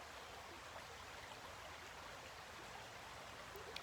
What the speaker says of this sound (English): I hear the water flowing over rocks.